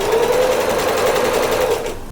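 A sewing machine runs in one continuous, fast burst of stitching as it sews down an elastic waistband on a refashioned thrifted dress. The close, steady whir stops abruptly near the end, with no talking.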